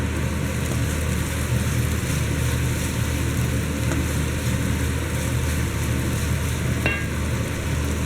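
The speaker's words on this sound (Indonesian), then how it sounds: "Tumis gilingan cabai dan udang hingga keluar harumnya." Ground chili and shrimp sizzle steadily in hot oil as they are stirred, a dense continuous frying hiss with a brief scrape of the spatula near the end.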